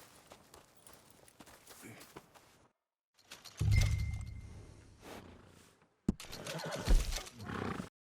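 A horse neighs loudly up close, with hoof thuds and rustling before and after, in a Red Dead Redemption 2 game soundscape.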